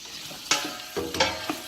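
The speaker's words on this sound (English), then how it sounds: "Let's go ahead and put those right in that pan. And stir those around." Onions, sausage and pepperoni stirred in a frying pan, a soft steady sizzle broken by a few quick scraping strokes of a spoon.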